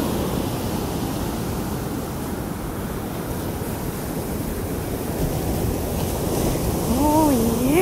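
Strong ocean surf rolls in on a foggy morning at Jacksonville Beach, Florida, as a steady, loud wash of breaking waves with wind noise. A voice briefly rises near the end.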